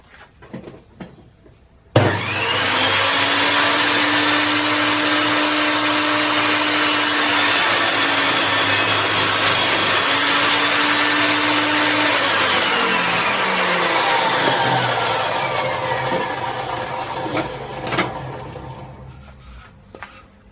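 An Evolution R255MTS table saw spins up abruptly and cross-cuts a 4 cm thick decking board, a loud, steady high whine for about fifteen seconds before winding down, close by and without talking.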